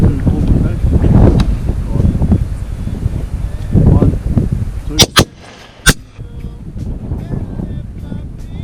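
A rifle fires a single sharp crack during an outdoor red deer hunt, followed shortly by a second report, loud and close amid wind noise and rustling, with talk before the shots.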